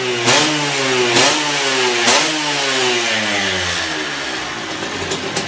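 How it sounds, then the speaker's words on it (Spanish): An Aprilia RS 50 two-stroke motorcycle engine revs up hard several times in quick succession, each loud close burst rising in pitch then falling back, with no talk. "Ahora está quitado, veréis cómo sube de vueltas ahora."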